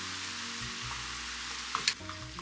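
Vegetables seasoned with chili powder, thyme and liquid aminos cooking in a pan, giving a steady quiet sizzle with a brief clink of a utensil near the end.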